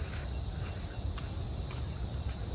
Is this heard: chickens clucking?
no